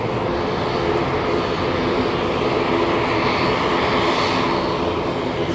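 Silver Airways propeller airliner passing overhead, a steady loud broadband engine roar with droning propeller hum that swells slightly and holds throughout, no voices.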